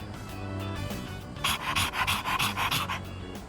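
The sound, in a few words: dog panting in video game Persona 3 Reload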